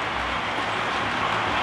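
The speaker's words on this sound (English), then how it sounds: "let's see some trains run on the layout." Model trains run on a home model railroad layout, producing a steady, continuous rumble and rolling noise with no speech.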